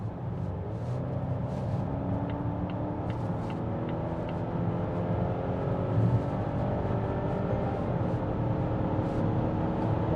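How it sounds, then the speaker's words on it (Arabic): A 2025 Volvo XC90 facelift accelerates from about 70 to 150 km/h, its engine drone rising steadily as a smooth continuous rumble heard from inside the cabin, with no talking. "تعالوا نجرب الارتقاء مرة تانية من سرعة مثلا زي 70"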